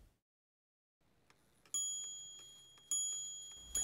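Two bell strikes ring out from a 1685 Joseph Knibb table clock during its quarter repeat, each sharp ping decaying slowly. A soft mechanical click precedes them. The bells have distinct tones and sound close and alone.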